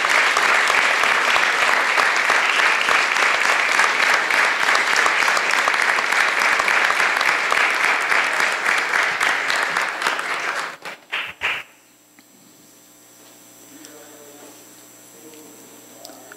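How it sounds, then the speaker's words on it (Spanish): Audience applause for an award winner at a formal ceremonial city council session, steady and full for about ten seconds before tapering into scattered claps and a quiet room with faint hum. "Otro fuerte aplauso para nuestro galardonado, Julio Alejandro Ríos Gutiérrez."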